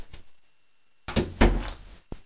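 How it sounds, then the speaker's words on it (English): An indoor door is pushed shut, giving a soft thud and rattle followed by a second heavier knock and a brief click, near and fairly quiet after a short pause. "I'm going to go close the door here."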